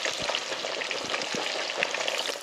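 Pieces of meat deep-frying in hot oil for yangnyeom chicken or tonkatsu give a steady crackling sizzle with scattered pops, close and moderately loud, and no voices.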